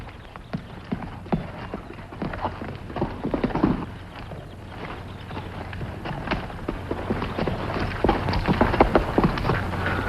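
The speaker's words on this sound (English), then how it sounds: "3 horses tied here." Horses' hooves clip-clop as a radio-drama sound effect for a Western adventure, a steady, moderately loud run of hoof beats that continues throughout with no talk over it.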